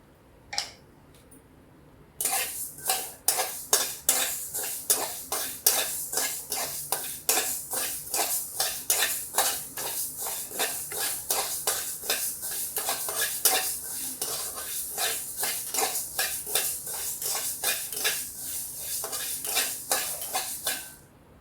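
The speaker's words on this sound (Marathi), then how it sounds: "आता आपण मोहरी घेऊया भाजायला." Mustard seeds and fenugreek seeds roasting dry in a pan for a dahi mirchi recipe, with a steady run of sharp metallic scraping and clinking strokes from a spoon against the pan, close and continuous after a quiet start.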